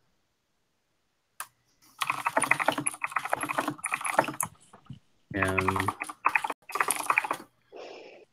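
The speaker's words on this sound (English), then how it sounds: "my keyboard is like the sound of a machine gun" Loud, fast computer keyboard typing comes in dense bursts close to the microphone, with short pauses between runs and a brief spoken word.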